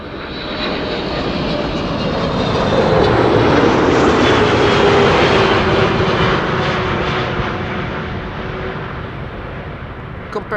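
A Boeing 777-300 airliner passes by at Amsterdam Schiphol on a sunny day, a loud, sustained engine roar that swells and then slowly fades, heard alone from fairly near.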